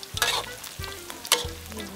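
Fresh pork fat crackling as it renders in hot oil, a steady close sizzle broken by louder bursts of spattering and a few low clunks from the pan.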